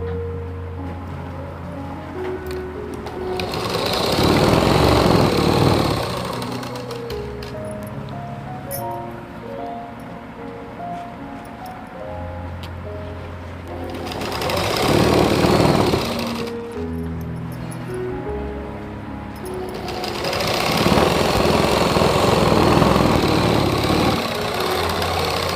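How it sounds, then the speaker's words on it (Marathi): A sewing machine stitches along the edge of a four-tuck blouse in three loud whirring bursts of a few seconds each, separated by quieter stretches of low background hum. "हे असं सरळ अगोदर शिलाई मारून घ्यायची एकदम कडनी"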